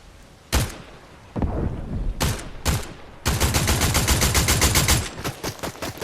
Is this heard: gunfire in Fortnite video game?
yes